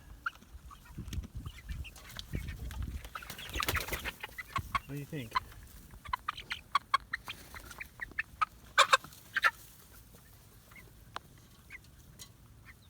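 Scattered clucks and squawks from a flock of chickens, loud and intermittent, with someone speaking briefly among them.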